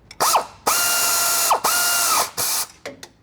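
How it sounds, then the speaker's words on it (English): A powered ratchet tightens the factory bolts with an 18mm socket on a lift bracket of a 2019-or-later RAM 1500 being fitted with a six-inch lift, in three loud whirring bursts with brief pauses, close up. "we're going to go ahead and torque all of our brackets down"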